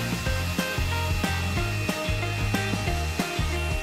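A Xiaomi cordless vacuum cleaner fitted with a mite removal brush runs at highest suction over powder spread on a sofa, giving a loud, constant whine with regular rhythmic thumps as the brush is pushed back and forth.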